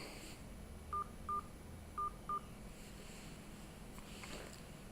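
Four short telephone keypad tones sound in two pairs as a 4-digit PIN is entered, evenly spaced and clear over a quiet, windy hiss.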